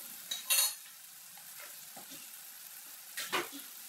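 Egg and tomato stir-fry, Chinese style, stirred in a pan: quiet background sizzle with two sharper bursts of spatula scraping and a few soft taps, no voices.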